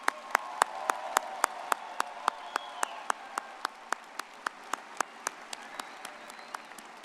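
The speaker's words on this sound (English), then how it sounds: "let's give these graduates a round of applause" Audience at a university commencement ceremony applauds the graduates, regular sharp claps repeating at a steady rhythm over a soft crowd wash, gradually easing off.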